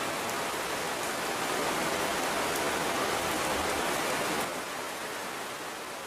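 Steady rain pours over the African savanna, a dense continuous hiss with faint drop patter, loud and even throughout with a slight drop in level near the end.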